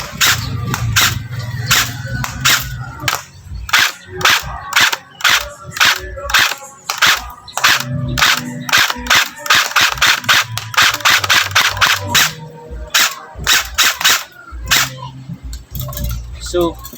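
A CYMA AK47 airsoft electric gun converted from a gel blaster fires at a target in rapid single shots and short bursts, sharp close snaps repeating through the clip while someone talks between them.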